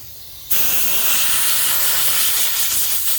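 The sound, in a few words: air blower blowing caterpillar nests off a Jeep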